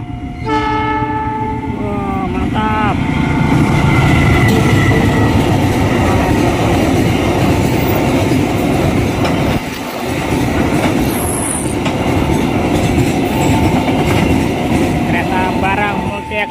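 Cement freight train rolling through the Bapangsari level crossing in Purworejo, horn blasts at the start and end over a loud continuous rumble and clatter of wagons passing close by.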